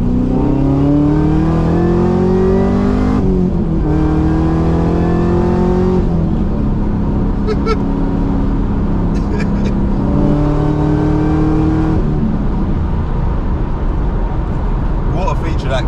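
Tuned Chevrolet Camaro ZL1 with a loud V8 revving hard on the move, climbing through gears in repeated rising pulls with brief shift breaks, close and dominant throughout.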